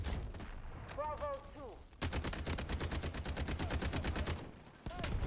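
Rapid automatic gunfire rings out in the video game Delta Force, a sustained string of evenly spaced shots after a short earlier burst, loud and close.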